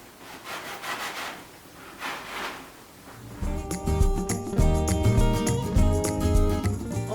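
Bread slices are cut with a cookie cutter, giving soft rough scraping strokes, close and quiet, before background music begins and carries through to the end.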